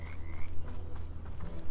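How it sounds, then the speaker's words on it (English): A frog croaks in the video game Bramble: The Mountain King, giving a steady, low, throaty rattle that carries on continuously, with a brief higher tone near the start. "I thought that frog was gonna fucking eat us."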